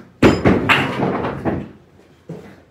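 A hand-pulled rake on a mini bowling lane gives a run of close wooden knocks and clatters, several hits in the first second and a half, then a quiet gap before one more knock.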